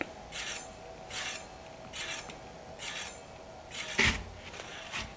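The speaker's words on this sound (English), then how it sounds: "I can see that it's rubbing on the inside fixed pad." Rhythmic rasping of a mountain bike brake pad, the inside fixed pad on a Fuji Tahoe, rubbing against the rotor as the wheel turns, repeating about once a second, close and fairly quiet with one louder scrape near the end.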